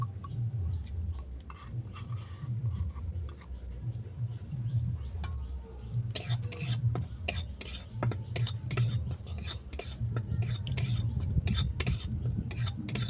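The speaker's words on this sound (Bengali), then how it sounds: "সেই জন্য আমি বেসনটাকে কড়ার মধ্যে ড্রাই রোস্ট করে নেব" Besan is dry-roasted in a wok while being stirred, giving irregular scraping strokes and light metallic clinks over a low background hum, with no talking.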